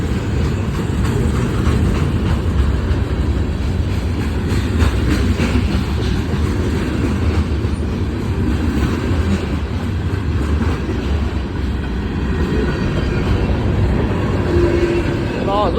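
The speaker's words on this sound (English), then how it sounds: "Yeah, I recorded the second train on the other side." A freight train passes through downtown Cowan, Tennessee, a loud, continuous rumble of rail cars with faint clicking from the wheels, steady across the whole stretch.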